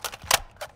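A weapon magazine swap in Call of Duty: Modern Warfare II, three short mechanical clicks and clacks in quick succession, crisp and close, with no talk.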